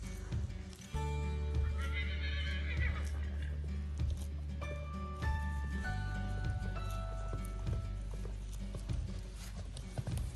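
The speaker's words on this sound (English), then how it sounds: "I am going to try to walk all 3 of the horses around the property." Horses whinny and neigh loudly over a steady soundscape, with occasional hoof clip-clops, while three horses are walked around a property.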